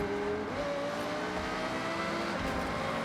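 The naturally aspirated 5.2-litre V10 of an Audi R8 Coupe V10 GT in Forza Horizon holds a steady, smooth drone. Its pitch steps up briefly early on, then settles into a constant, close, unbroken engine tone.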